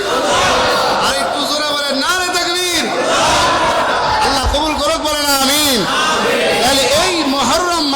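A crowd at a religious gathering shouts the takbir response in loud unison, with surging voices swelling in waves under a leader's amplified call.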